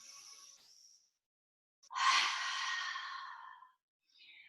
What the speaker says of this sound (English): We'll take an open mouth exhale here, releasing the hot air.